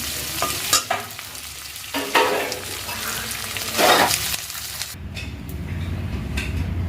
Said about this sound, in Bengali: চিংড়ি মাছটা যে একটু ভাজা করে নিচ্ছি